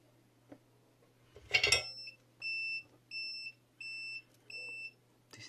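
An electronic tester used in assembling an LED light spinner shuts off with a clatter followed by five evenly spaced, clear high-pitched beeps, close and alone.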